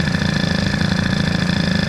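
A Peugeot 103 moped with a Doppler stock-boosted setup runs rich at a steady idle, a loud, close, continuous buzzing putter with a fast even pulse and no talking.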